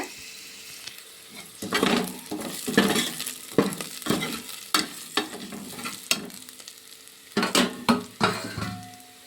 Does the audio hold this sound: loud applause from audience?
no